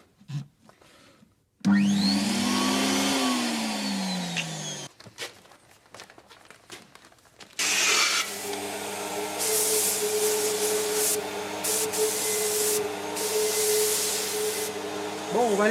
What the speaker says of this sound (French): on va laisser chauffer la turbine.